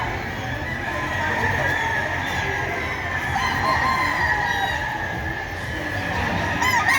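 Pumpkin Hatch chickens crowing at a hobby expo and pet convention, with several rooster crows and clucks overlapping amid a busy indoor crowd hum.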